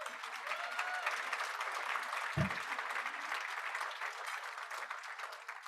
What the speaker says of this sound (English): let's give a round of applause for Miguel